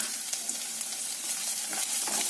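Roughly chopped onion frying in a pan on a medium flame, a steady close hiss and crackle of sizzling with small stirring scrapes, no voices.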